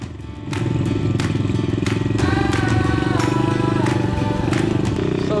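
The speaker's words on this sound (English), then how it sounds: "dual sport bikes up the rough road to the Treasure Mountain campsite in Tanay, Rizal" Dual sport motorcycles climb a rough road toward a mountain campsite in Tanay, Rizal, engines revving loud and close with a steady throaty drone and rattling clatter from the rough surface.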